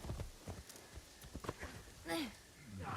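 Horse hooves clip-clopping as a rider travels through the world of the video game Assassin's Creed Shadows, a steady rhythm of close footfalls with short spoken remarks over it and a brief whinny near the end.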